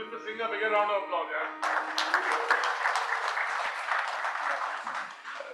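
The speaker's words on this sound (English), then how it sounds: "Give Mr. Singh a bigger round of applause" Audience at a legal awards ceremony breaks into applause after a voice on a PA, a full even round of clapping that carries on to the end.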